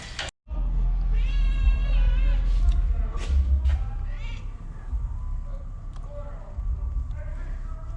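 A cat meows several times in a garage-style shop during an engine pull, with harmonic cries rising through the first half, under steady background noise and a person's voice.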